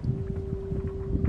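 Wind rushing over a sailboat under way just past the east end of Anacapa Island, a steady low roar with a constant droning hum running throughout.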